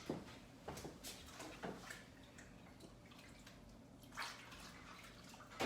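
A pie dish washed with water gives soft splashes, drips and light knocks against a sink, close but quiet, scattered over a low background hiss, with no talk.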